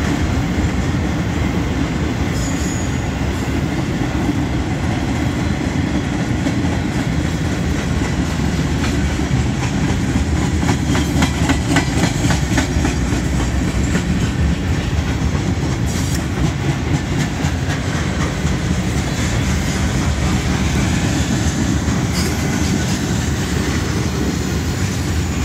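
Lake Erie and Franklin Clarion Railroad freight train rolling steadily past up close, continuous loud rumble and clickety-clack of wheels over rail joints throughout, with occasional faint squeals.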